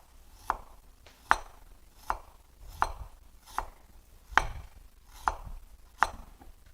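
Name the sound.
knife slicing ginger thinly on cutting board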